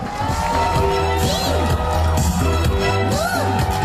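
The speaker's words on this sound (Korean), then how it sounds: "여러분 박수 크게 한번 보내주세요" A loud crowd cheers and claps at an outdoor presidential campaign rally in Sinjeong Market, Nam-gu, Ulsan, with whoops and chanting over a constant din.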